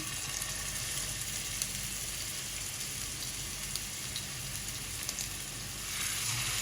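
Mutton burger patties frying in hot oil give off a steady, close, crackling sizzle at low volume that swells slightly near the end.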